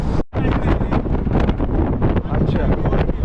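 Wind rushing past during a road journey through wooded hills from Kalyan toward Nashik, a loud continuous buffeting roar close on the microphone, with one brief dropout near the start and voices mixed in.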